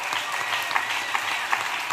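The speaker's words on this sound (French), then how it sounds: "Acclamons pour Jésus. Let us clap for Jesus." A congregation at a church revival service claps together in steady, dense applause, the crowded hand-clapping filling the room without talk.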